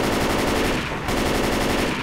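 Sustained automatic AK assault rifle fire in the zombie shooter Left 4 Dead 2, a dense rapid rattle of shots running through most of the two seconds with a brief dip near the middle, loud and up close.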